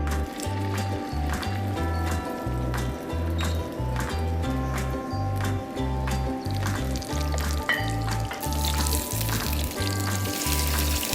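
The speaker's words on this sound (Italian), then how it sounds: "e poi lo mettiamo a friggere in padella" Stuffed bogue fish fries noisily in a pan, a steady crackling sizzle close by, under a rhythmic low thumping of background music.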